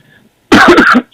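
A single loud, harsh cough bursts out after a moment of near silence, close up and lasting under a second.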